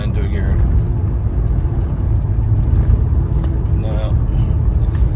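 A 1988 BMW 535is E28 driving in limp mode, stuck in third gear with little power, its engine and road noise a loud steady drone heard from inside the car while a person talks over it.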